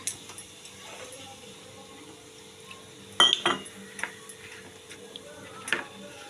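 Spice paste for a hilsa and brinjal curry stirred in a bowl, giving scattered light clinks and taps of a utensil against the bowl, with a few sharper knocks midway, close and fairly quiet with no talk.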